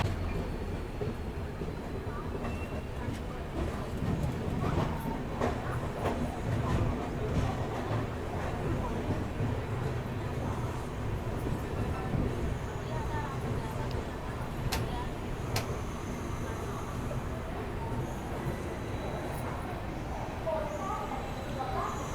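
A passenger train pulls into Kazipet station, a steady rumble with occasional clanks and rail noise throughout, moderately loud and close, with a voice talking over it.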